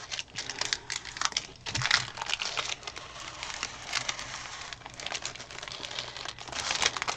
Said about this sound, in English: So I'm peeling off this